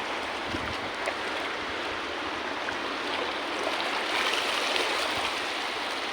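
Waves wash steadily onto a beach at high tide, a dense continuous roar of surf with no distinct breaks between swells and no voices.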